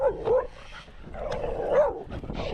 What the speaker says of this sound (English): That dog was sleeping beneath the truck. Woke him up, assuming he was pretty pissed off.